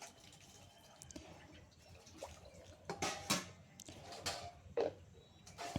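Faint water drips and splashes at a sink while dishes are washed by hand in the morning, intermittent and close, with a few louder splashes near the end.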